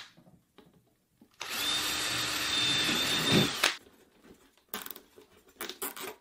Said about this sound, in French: Alors allons-y, perçons ces trous.